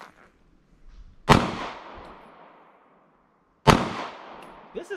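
Two loud gunshots at an outdoor shooting range in Tennessee, each a sharp crack with a long fading echo, spaced a couple of seconds apart, with a faint thump at the end.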